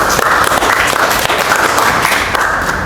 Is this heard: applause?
yes